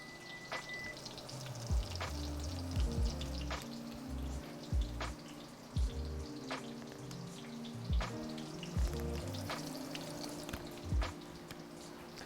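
Matsutake pine mushrooms dropped into hot butter in a pan, a soft crackling sizzle punctuated by repeated low thuds and clacks of handling, with faint tonal music underneath.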